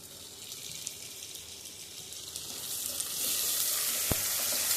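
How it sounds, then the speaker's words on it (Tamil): Onions and tomatoes sauté in a hot pan, a steady close sizzle and hiss that swells louder partway through, with a brief sharp tap near the end and no talk. "சேர்த்துட்டு நல்லா வதக்கி விட்டுடலாம்."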